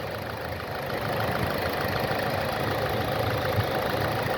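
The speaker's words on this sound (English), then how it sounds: "with the motor running" A 2020 Kia Soul engine idles with a constant low rumble and faint mechanical ticking, unchanging throughout, with no voices.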